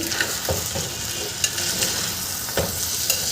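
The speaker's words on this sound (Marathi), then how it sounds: "दोन तीन मिनटं हे मी भाज्यासोबत छान परतून घेते" Rice and peas sauté with vegetables in a pan for vatana pulao, a loud close sizzle with scraping spoon strokes stirring at irregular intervals.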